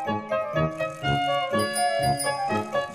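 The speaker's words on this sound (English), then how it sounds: "Now you can go faster and even ring your bell." A bicycle bell rings repeatedly in the Peppa Pig World Adventures video game, with bright metallic dings in a steady rhythm over a light, cheerful game music bed, near and clear.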